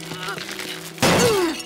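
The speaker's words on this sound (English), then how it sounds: "how did Amethyst not hear the equivalent of glass shattering there?" A glass-like shatter in a Steven Universe cartoon scene, a single loud crash with ringing fragments arriving about a second in, after a quieter humming stretch.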